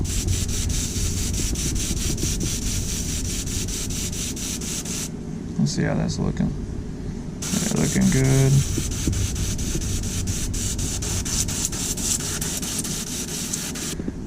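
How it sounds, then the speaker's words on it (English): A steady hiss of spray paint on a fishing swimbait runs almost continuously, pausing briefly mid-way while someone speaks close by. "we're spraying this bait at an angle here"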